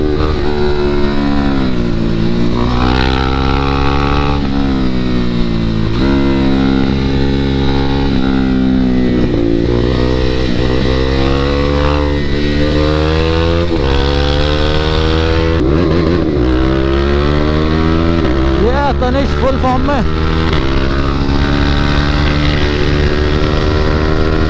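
Several KTM 390 motorcycles ridden together at high throttle and high RPM, their loud engines droning and rising and falling in pitch as they pull, with no talk over the steady roar.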